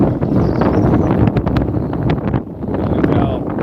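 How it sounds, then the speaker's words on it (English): Strong gusting wind buffeting the microphone at a drag strip, a loud continuous low roar and rumble that swells and dips throughout, with voices faintly under it. "And it's getting windy as hell."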